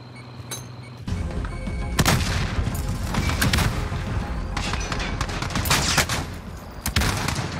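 Video game gunfire in a heated online firefight: dense, loud bursts of automatic shots and booming blasts pour out continuously after a brief quieter opening, with sharp crack peaks punctuating the barrage.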